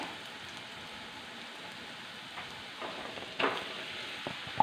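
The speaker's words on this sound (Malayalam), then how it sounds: "മാങ്ങ ഇട്ടേ മാങ്ങ ഇട്ടൊന്ന് ഒന്ന് വഴറ്റിയെടുക്കാം" Mango pieces sautéing in a pan for Kerala-style mango curry, a soft continuous sizzle with a few quiet stirring scrapes and clinks near the end.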